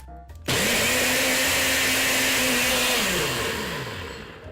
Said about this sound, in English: Secure the lid and blend away